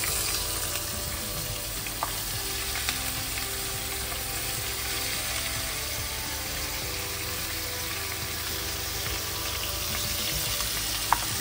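Chopped onions sizzle steadily in hot oil in a pan, a loud continuous frying hiss that runs unbroken from start to finish with no voices over it.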